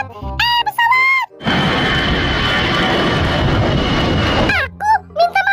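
Airplane passing overhead with a loud, steady engine roar for about three seconds, framed by excited cartoonish voices talking before and after.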